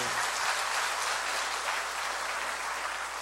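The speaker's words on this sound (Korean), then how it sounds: "박수 한번 보내주세요" Steady applause from a church audience at a pastor's testimony event, a dense even wash of clapping that holds at one level for about three seconds with no talk over it.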